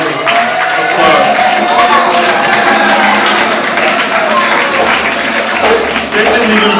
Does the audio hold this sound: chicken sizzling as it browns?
no